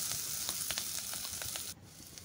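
Bottle gourd skin frying in oil with ginger and garlic gives a steady, close sizzle with small crackling pops, then drops quieter near the end, with no voices.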